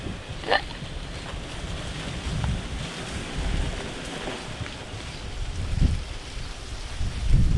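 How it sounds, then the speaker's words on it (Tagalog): Strong wind roars and gusts continuously, buffeting the microphone with low rumbling bursts. "lakas lakas kasi talaga ng hangin"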